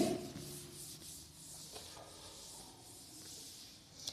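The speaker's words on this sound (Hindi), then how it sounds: "थोड़ा सा इसको रब कर देती हूं" Writing being rubbed off a board during a maths lesson, heard as a faint, continuous dry rubbing hiss with a few soft strokes in a quiet room.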